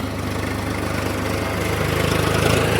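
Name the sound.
tractor engine idling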